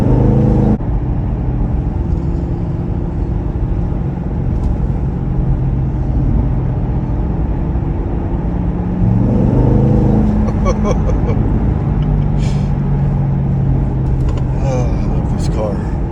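A 2014 Corvette C7 Stingray with a 7-speed gearbox drives along with a steady low engine rumble. The engine note rises and shifts partway through, and someone talks over the car for most of the time.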